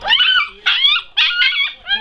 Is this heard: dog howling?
yes